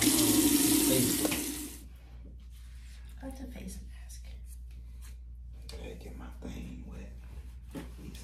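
Water runs loudly from a tap into a sink during face washing for under two seconds, then shuts off, leaving quiet rustling and soft speech.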